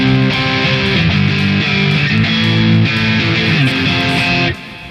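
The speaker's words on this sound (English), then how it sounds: "I'm just going straight into an amp that has a kind of crunchy channel to it, so without any effects, it sounds like this" A Fender Stratocaster plugged straight into an amp's crunchy overdriven channel, with no effects, strums a chord pattern; thick distorted chords ring continuously, loud and close, then cut off abruptly near the end.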